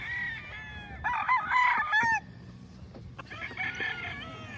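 Roosters crow on a farm in two long, loud calls, each one rising and then held, with a gap between them. Clucking from other fowl and steady yard noise sit underneath.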